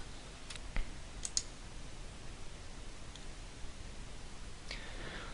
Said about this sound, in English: click the green Go button